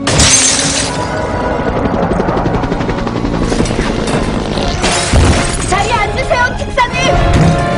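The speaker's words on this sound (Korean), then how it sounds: "체면을 거는 스크린을 박살내는" A hypnotizing screen smashed during an animated action scene: a loud crash and shattering of breaking material over a roaring mechanical background, with further impacts and clatter, under a voice narrating.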